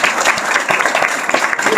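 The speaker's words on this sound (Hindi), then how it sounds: "बार जोरदार ताली होनी चाहिए" Loud audience applause at a team leaders' meeting in Nainital, dense, steady clapping close by, lasting under two seconds with no talk.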